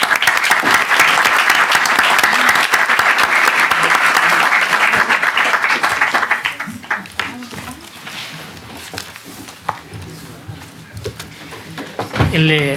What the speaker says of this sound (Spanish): un aplauso para todos los panelistas